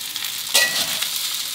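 Canned fish fried rice being stir-fried in a wok over medium heat, with a steady hiss of sizzling and a sharp scrape of the spatula partway through, close and alone without voices.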